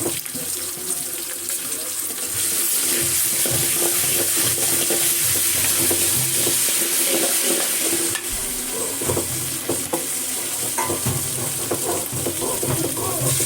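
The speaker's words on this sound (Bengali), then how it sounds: "পেঁয়াজগুলো ভাজা ভাজা হয়ে গিয়েছে।" Chopped onions frying in hot oil in a home kitchen pan give a steady, dense sizzle with faint stirring scrapes, continuous and fairly loud for the whole stretch.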